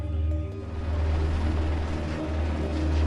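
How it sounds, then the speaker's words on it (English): A steady low engine drone, loud and continuous, like a patrol helicopter hovering overhead near the border in Tijuana, with a deep rumbling hum. "The sounds of patrolling helicopters are never far away anymore"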